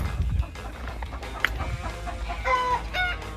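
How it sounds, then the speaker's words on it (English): A hen clucks and cackles while laying an egg, in short bursts with a few higher squawks, against low background rumble and scattered faint noises. "Have a chicken, laying an egg. We like those noises"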